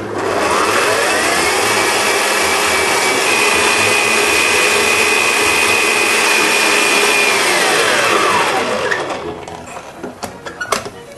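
An electric mixer whisks eggs for a brownie cake, a loud, steady motor whir that holds for about eight seconds and then winds down, followed by light clatter.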